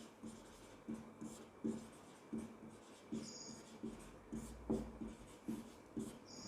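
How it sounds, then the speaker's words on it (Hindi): Someone writes on a board, producing a run of short, regular scratching strokes with small pauses between them, faint and close, with no talk. "आइए लिखते हैं आगे"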